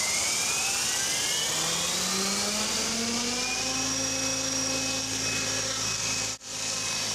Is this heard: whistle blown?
no